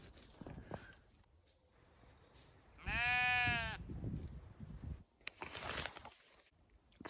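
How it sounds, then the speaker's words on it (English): Sheep bleat just beyond a fence outside a tent at a wild camping spot in the English countryside early in the morning; one loud, close, harmonic bleat stands out mid-clip, with fainter bleats and rustling around it. "There's all these sheep outside my tent,"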